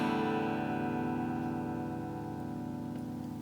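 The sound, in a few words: strumming open strings on a Strat electric guitar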